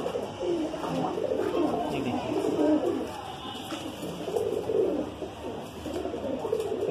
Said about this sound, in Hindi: ये बना हुआ कबूतर है